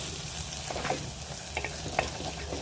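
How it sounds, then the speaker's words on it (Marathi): Whole spices and garam masala fry in hot oil for a spicy Maharashtrian curry, giving a steady close sizzle with a few scraping stirs and soft pops, no voices over it. "आता हे सगळे मसाले छान असे तेलामध्ये परतून घ्यायचे"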